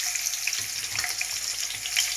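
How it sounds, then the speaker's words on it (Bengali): Hilsa fish frying in hot oil, a steady close sizzle with crackling spits and pops running the whole time and no voices. "তেল দিয়ে দিচ্ছি, এখন হালকা করে আমি মাছটা ভেজে নেব।"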